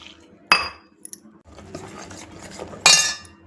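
Batter is mixed with water on a plate, with two sharp metallic clinks of a spoon against the plate and soft scraping and sloshing between them, close and moderately loud.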